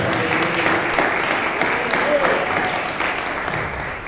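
Applause from a church congregation during a Sunday worship service, a steady dense wash of clapping held for several seconds with a brief voice surfacing midway.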